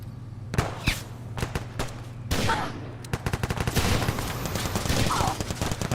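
Repeated gunshots ring out from the player's weapon in Fallout 4, sharp loud cracks fired in irregular bursts, some in quick succession, with a voice occasionally heard between shots.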